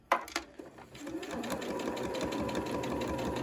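Sewing machine stitching a bib shirt placket with cream thread, a couple of brief starts followed by a steady, continuous motor whir and needle rhythm at close range.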